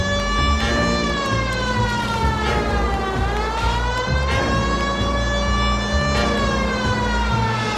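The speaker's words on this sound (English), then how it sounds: "putting the siren on might remove the element of surprise from your hit and runs" Police car siren in the video game L.A. Noire, a loud continuous wail rising and falling in long sweeping cycles, close and steady over a low engine rumble, with no talking.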